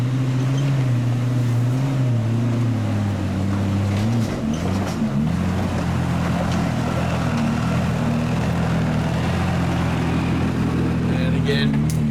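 A twin-locked Nissan GU Patrol 4WD climbs the Selwyn Summit track in the Victorian High Country, its engine droning low and steady throughout, shifting pitch as it works up the slope.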